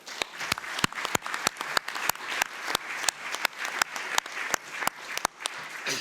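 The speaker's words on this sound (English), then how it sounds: "Please join me in giving a warm applause to our jury members." An audience at an ESG awards event applauds the jury members. Mid-sized clapping mixes with a few loud, sharp claps close to the microphone that repeat at a regular beat.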